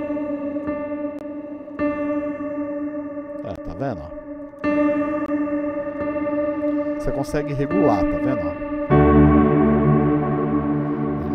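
A worship-style synth pad is played on a keyboard through a lo-fi sample-rate effect, holding a sustained, wavering chord that shifts several times while someone talks over it.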